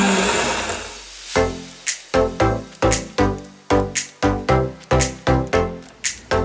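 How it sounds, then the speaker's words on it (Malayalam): A hand mixer beats butter for vanilla cupcakes in a steady rhythm of short whirring pulses, each one starting sharply and fading before the next, close and fairly loud with no talking. "നമുക്ക് ഹാൻഡ് മിക്സർ ഉപയോഗിച്ചാണ് ഞാൻ ചെയ്യുന്നത്"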